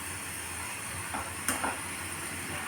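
Vegetables frying in oil in a pan give a steady, moderately loud sizzle and hiss, with a brief louder crackle partway through, and no talking.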